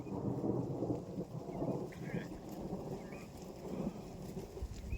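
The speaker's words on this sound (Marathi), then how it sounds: "गरजलेलं ऐकू येतंय ना" Low thunder rumbles from an approaching rainstorm, a faint rolling growl that swells and fades over a few seconds with light rain noise beneath.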